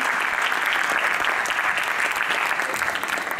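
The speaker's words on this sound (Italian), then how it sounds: "un bel applauso per tutti voi" Steady, dense applause fills the room from a press audience at a cast meeting for a Sky Original series, continuous and fairly loud throughout with no voices on top.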